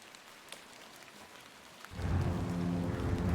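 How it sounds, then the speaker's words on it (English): Steady rain in the video game The Excavation of Hob's Barrow sets in abruptly after a quiet opening and continues as a dense, even wash of falling water, with a low rumbling undertone beneath it. "Great, I have to walk half a mile in the rain."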